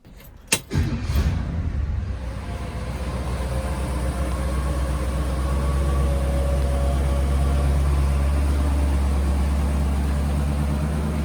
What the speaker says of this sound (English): This is a 327 2-barrel carburetor with a power glide transmission